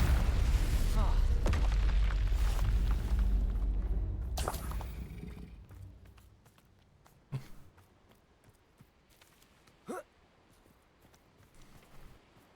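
Confringo explosive spell in the video game Hogwarts Legacy: a loud booming blast with whooshing tail that fades over several seconds, followed by two sharp, isolated impacts, with game voices heard in places.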